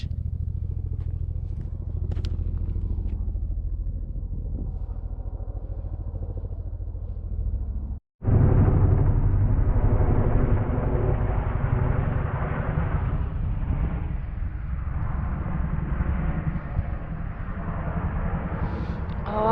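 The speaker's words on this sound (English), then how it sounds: "Big old helicopter just freaked all those" A large helicopter flies over a desert date ranch wash, a loud, steady, close rotor-and-engine roar that starts abruptly partway through after quieter low rumble and carries on unbroken to the end.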